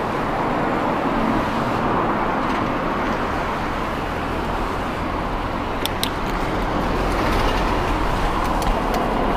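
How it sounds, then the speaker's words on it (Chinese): Cars pass continuously on a main urban road at a market district in Shiqiao after rain, making a loud steady roar of traffic with a few brief higher clicks near the middle. "汽车通行的主干道。"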